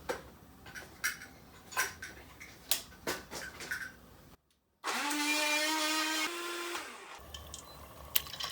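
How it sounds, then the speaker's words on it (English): A small blender whirs steadily for about two and a half seconds, blending garlic into a paste. Its motor pitch drops partway through, and it then stops. Scattered kitchen clatter and knocks come before and after. "Don't ask me where I got this little blender."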